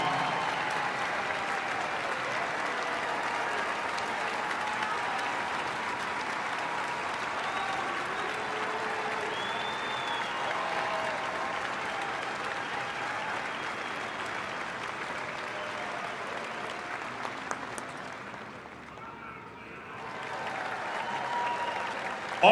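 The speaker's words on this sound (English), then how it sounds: "How about one more round of applause for the best damn band in the land?" Sustained applause and cheering from a large audience for the Ohio State University Marching Band at a Skull Session pep rally before the Rutgers game, steady and dense for about eighteen seconds before dipping briefly and swelling again.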